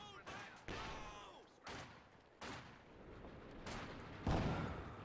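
Shells from a light gun in Company of Heroes 2 fire as several sharp, booming reports spaced about a second apart, each with a decaying tail, moderately loud against a quiet background.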